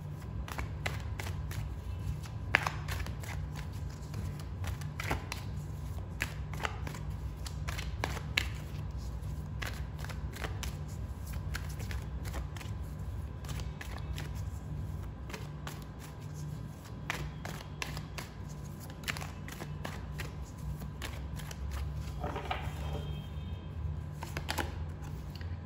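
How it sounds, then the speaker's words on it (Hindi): Tarot cards being shuffled and drawn, giving a steady soft papery riffle with scattered sharper card snaps and flicks, close up over a constant low background hum. "चलिए अब हम कार्ड्स निकालते हैं टैरो से"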